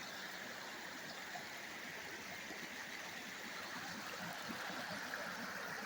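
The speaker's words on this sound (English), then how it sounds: "the water is now running through here at the rate it would be without filling up the features" Stream water rushes steadily through a short-circuited section of a winter runoff channel, a dense continuous wash and gurgle that stays even and unbroken throughout, with no voices.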